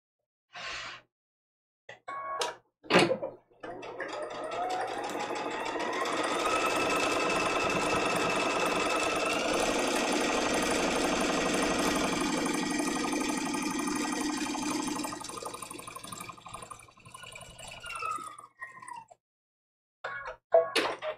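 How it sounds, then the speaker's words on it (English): A sewing machine stitches a straight quarter-inch seam through a quilt-as-you-go placemat with batting, a steady close mechanical whir lasting about twelve seconds, framed by brief starts, clicks and handling noises. "we're gonna be sewing, starting right off the batting and sew all the way down off the batting"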